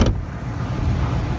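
A Ford F250 truck idles close by, a steady low rumble with a faint high whine, after a short click at the start.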